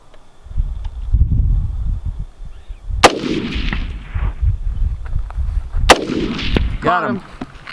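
Rifle shots ring out during a prairie dog hunt in open country, two sharp, loud cracks a few seconds apart, each echoing away, with wind and rustling between them.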